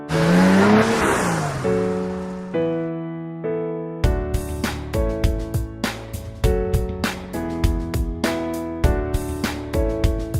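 A car engine revs and roars with a brief tire squeal for about two seconds at the start, then a loud beat-driven music track takes over for the rest.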